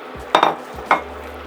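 Orange being stirred into stewing pumpkin in a pan, two short scraping knocks of a spoon against the pan over a steady low background.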